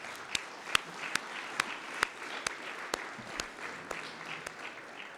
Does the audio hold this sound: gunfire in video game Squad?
no